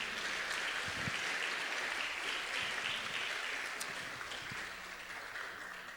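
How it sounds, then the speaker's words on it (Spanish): A church congregation applauds after a sermon, a steady wash of many hands clapping in a reverberant hall for about six seconds, tapering slightly at the end. "¿por qué no le damos un fuerte aplauso?"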